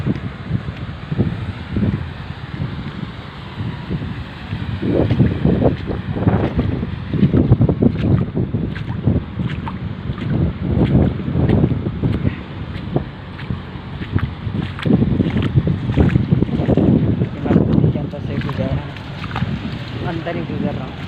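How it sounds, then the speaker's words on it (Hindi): A vehicle drives through a flooded road during heavy rain, its low rumble and water sloshing swelling under steady wind and rain noise for about twenty seconds while someone talks. "चेक करो गाड़ी आ रही है।"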